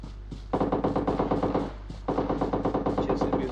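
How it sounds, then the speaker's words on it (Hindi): Rapid automatic gunfire in PUBG Mobile on the Sanhok map, two sustained bursts of fast, evenly spaced shots with a short pause between them, loud and close, with no talking. "हर तरफ से फायरिंग हो रहा है।"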